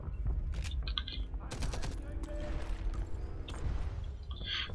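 Gunfire in the World War II shooter game Enemy Front: bursts of rapid shots and scattered single cracks running almost continuously over a dense, rumbling battle background, with no one talking.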